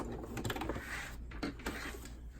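A home sewing machine running a short locking stitch while topstitching elastic on a cloth diaper, a steady close mechanical whirring with rapid needle clatter throughout.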